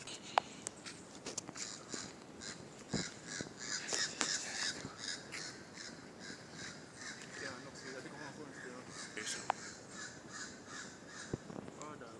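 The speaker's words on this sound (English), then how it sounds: "see the bird in the bush" A bird in a Jamaican bush gives repeated harsh, crow-like caws, faint and slightly distant, scattered across the clip with footsteps, rustling and quiet talk nearby.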